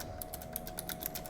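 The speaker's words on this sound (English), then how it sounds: "While he's typing all that shit out" Rapid keystrokes clatter on a computer keyboard at close range, an uneven run of light clicks over a steady low hum, with no voices.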